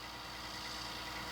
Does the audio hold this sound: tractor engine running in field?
yes